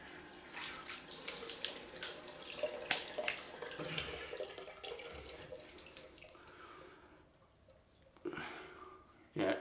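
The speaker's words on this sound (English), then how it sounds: "let's just wet the face down again" Tap water runs and splashes while a man wets his face before shaving with a Merkur 34c safety razor, a faint, close hiss with intermittent splashing and dripping as hands scoop water.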